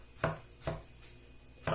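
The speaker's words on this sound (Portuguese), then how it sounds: "Agora eu vou cortar o tomate." A knife slices through a tomato on a cutting board for a tomato jam, landing three crisp, close cuts at uneven intervals with quiet pauses between them. No one speaks.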